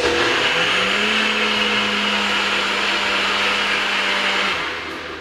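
A Nutribullet blender whirs through tomatoes for homemade keto ketchup, a loud, steady motor drone that rises at the start, holds, and then winds down near the end.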